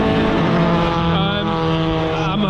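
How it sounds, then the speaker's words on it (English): 1990s 2-litre Super Touring race cars in qualifying at Brands Hatch, a loud continuous engine wail whose pitch shifts partway through, close and unbroken. "this is their qualifying session"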